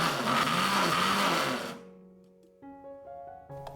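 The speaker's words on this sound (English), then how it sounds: "Put them in a blender." An electric kitchen blender finely chopping fresh ginger and garlic, whirring loudly and steadily for under two seconds before cutting off, leaving a few faint tonal beeps and hums in the quiet that follows.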